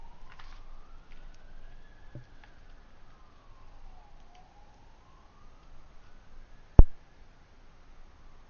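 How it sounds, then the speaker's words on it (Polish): A faint ambulance siren wails in the Roblox video game, a single slow rising and falling tone sweeping across the clip at a distance, with a sharp click near the end. "Nie, karetka."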